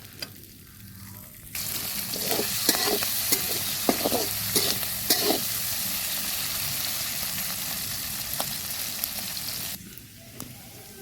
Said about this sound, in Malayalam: നല്ലപോലെ ഒന്ന് ഇളക്കി കൊടുക്കുക ഇളക്കി കൊടുത്ത് ഒന്ന് മൊഴിഞ്ഞൊരു ബ്രൗൺ കളറായി വരും